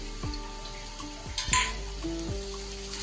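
Turmeric, cumin and coriander powder being stirred in a frying pan for a Bengali katla fish kaliya: a constant sizzle with repeated scraping strokes of a spatula and a brief metallic clink, close by and with no voices.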